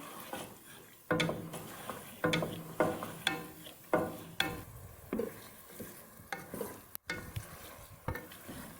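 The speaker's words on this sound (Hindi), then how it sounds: "अब हम गोश्त को 3-4 मिनट फ्राई कर लेंगे।" Beef pieces frying with browned onions in a pot, with repeated scraping stirs and clanks of a spoon over a steady low sizzle, close and moderately loud.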